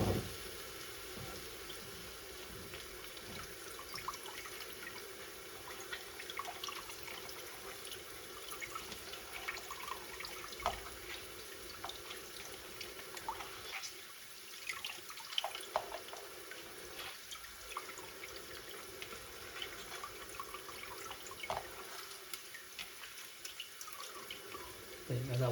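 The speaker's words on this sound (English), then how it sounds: "So all I'm doing is just squeezing the excess water out into here." Excess water squeezed by hand out of cooked spinach into a container for chicken saag, a steady trickling and dripping of liquid that runs almost continuously at close range.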